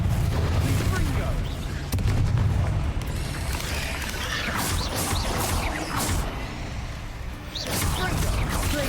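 Confringo fire-spell blasts in the video game Hogwarts Legacy go off again and again as loud, sharp bursts over a dense, continuous wash of combat noise and rumble.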